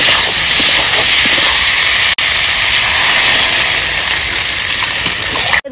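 Water poured into a hot pan of masala-coated potatoes for a katla fish curry sets off a loud, steady steaming hiss that runs almost unbroken, with one brief dropout partway through.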